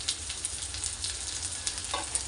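Cumin seeds roast in hot oil with a soft, continuous crackling sizzle and small irregular pops, close by and fairly quiet, with no talk.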